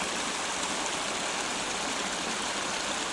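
Water spilling over the edge of a lake in the Carpathians makes a steady, soft rushing hiss, an unbroken flowing wash at a low, even level.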